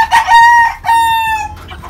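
Sweater breed gamefowl rooster crowing loudly and close in two long harmonic calls, with chicks and other birds clucking faintly around it.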